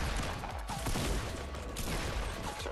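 Gunfire in the video game Fortnite: loud, continuous rapid bursts of shots overlapping one another throughout, dense and close with no pauses.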